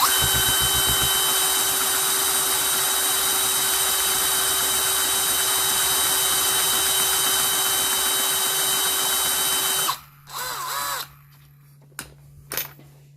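A power drill runs a screw jack up with a steady, loud, continuous whine for about ten seconds. It then stops, followed by a couple of short bursts and quiet gaps.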